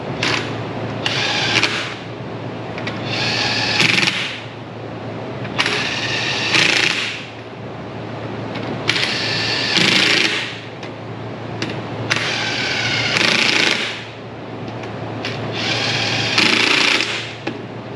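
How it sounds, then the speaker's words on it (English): A DeWalt impact wrench hammers on bolts during maintenance of a Gehl 7800, in loud rattling bursts of one to two seconds separated by short pauses over a steady engine hum. "I'm using the DeWalt Impact."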